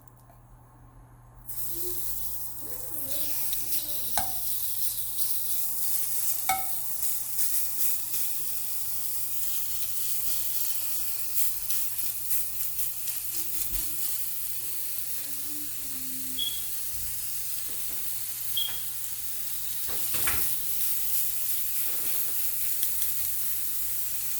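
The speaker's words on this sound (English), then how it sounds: "let's go ahead and get our chicken so we can start searing it at a 90-degree angle" Chicken pieces laid into a hot pan for searing, three at a time, hiss and sizzle steadily, close and moderately loud, with a few faint clinks and no talking.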